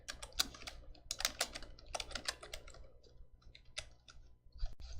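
Computer keyboard typing in bursts of quick clicking keystrokes, close and fairly clear, with short pauses between clusters and no talking.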